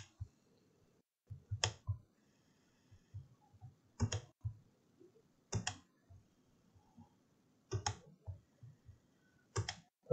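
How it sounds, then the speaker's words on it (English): Mouse clicks and keyboard key presses while working in Corel 2018 drawing software: sharp clicks come in pairs and small bursts, with lighter taps between them, close and fairly quiet. "Click, hold down the shift key,"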